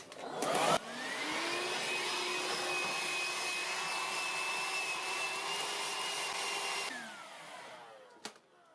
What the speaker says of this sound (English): Just going to give it a quick once over with the vacuum cleaner.